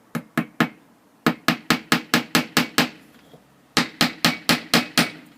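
A hammer drives a thin tack nail through a wooden dowel: about nineteen sharp, close strikes in three quick bursts, each bright knock ringing briefly, with short pauses between groups.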